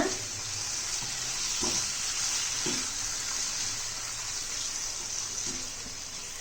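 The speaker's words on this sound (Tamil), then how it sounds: "மட்டனை சேர்த்துட்டு நல்லா வதக்கி விடுங்க." Mutton sizzles steadily in hot oil in a pan, a close, even hiss with a few soft knocks from stirring and no voices.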